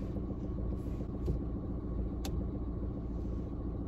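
Steady low road rumble of a car driving through London streets, a continuous engine and tyre drone with a couple of brief faint clicks, no talk.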